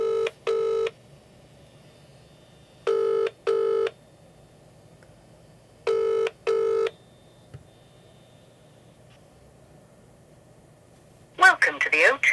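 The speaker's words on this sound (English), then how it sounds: "I think we should give them a call. So her name's Rebecca. I'll put her number in." Three separate bursts of paired telephone keypad tones as a phone number is dialed, spaced a few seconds apart, over quiet hiss, followed by a brief burst of noise at the end.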